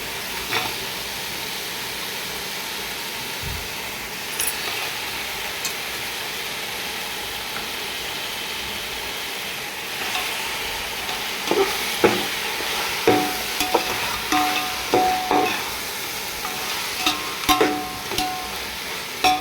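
Cleaned goat head meat frying with ginger garlic paste, a steady hiss at first, then repeated spatula scrapes and knocks against the pan growing more frequent in the second half.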